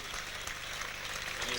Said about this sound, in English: Vitek, good applause.